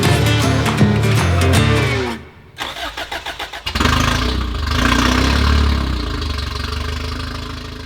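A vintage Toyota truck engine cranks and catches, then settles into a steady, loud running rumble close by, with a brief stuttering stretch before it fires up fully.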